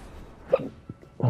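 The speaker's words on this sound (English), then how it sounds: "Oh, I got the hiccups." A single sharp hiccup sounds close to the microphone, a brief abrupt catch of breath, followed by a couple of faint clicks and a soft breathy noise.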